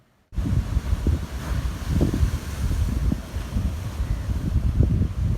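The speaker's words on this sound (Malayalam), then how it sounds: "കാണേണ്ട കൂട്ടത്തിൽ തന്നെ കേട്ടോ തിരമാലകളൊക്കെ" Sea waves washing onto the shore, a continuous rushing surge with gentle swells and steady wind noise, no voices.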